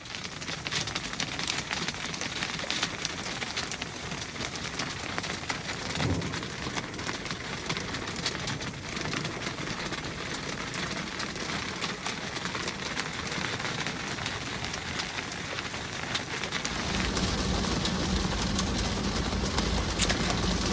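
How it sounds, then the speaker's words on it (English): Steady rain pours down during a storm, a dense continuous hiss of drops on surfaces that thickens and grows louder toward the end, with a soft bird coo faintly audible early on. "it gave me the chance to make a video of this whole storm"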